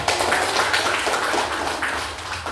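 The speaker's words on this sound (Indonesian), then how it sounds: "Tepuk tangan untuk kelompok 1" A classroom group applauds the first student group after their presentation during an Indonesian-language teacher training session, a brief, busy patter of hands that fades slightly toward the end, with no speech.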